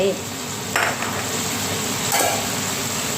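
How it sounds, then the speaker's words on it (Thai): Sliced red chili stir-fried over high heat in a pan, a steady hiss and sizzle with two brief louder scrapes of stirring, no talk. "แล้วเราก็เปิดไฟแรง ก็ใส่พริกแดง ที่เราซอยไว้"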